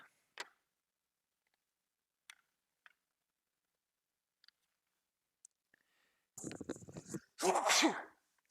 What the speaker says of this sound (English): Sorry, had to sneeze.